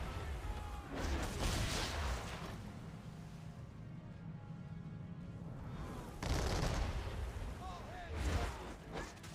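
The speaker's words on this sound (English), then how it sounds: "They're shooting at me." Gunfire in Assassin's Creed 3, bursts of shots and booms mixed into busy game noise, with a voice talking over it.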